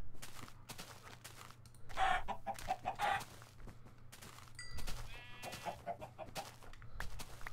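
Chickens in the Minecraft video game clucking and squawking in a cluster of short, repeated calls, fairly faint, alongside sheep-like bleats and scattered clicks, with no talking.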